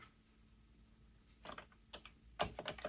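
A few scattered clicks of keys on a Commodore 64 keyboard, hesitant and uneven at first, then a quicker cluster of presses near the end against a quiet background.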